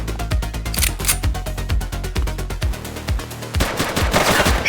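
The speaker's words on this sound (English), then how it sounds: "Shots fired!" Rapid bursts of automatic gunfire crack in quick succession in the police video game The Precinct, loud and close, with short gaps between volleys and no talking.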